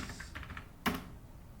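Fingers tap on a computer keyboard in a quiet room, a short run of soft clicks followed by a single sharper keystroke.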